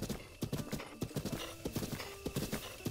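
Galloping horse hooves from Zelda: Breath of the Wild, a steady run of close, loud clip-clop beats with a brief whinny near the end, and no talking.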